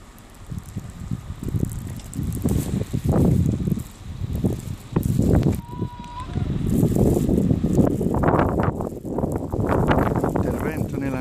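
Snowstorm wind at Abetone, gusting in loud, rough bursts that swell and fade against the microphone, with someone talking over part of it.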